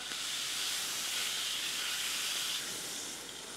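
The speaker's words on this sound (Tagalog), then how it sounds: "Simpleng prito lang." Steady, bright sizzling of beef frying in a hot pan, continuous and close, with no talking.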